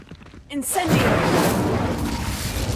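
A fire spell cast in the Hogwarts Legacy video game: a short whooshing onset followed by a sustained, loud roaring rush of flame, with brief spoken incantation-like voice at the start.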